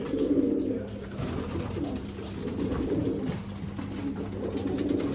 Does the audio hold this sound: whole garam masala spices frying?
no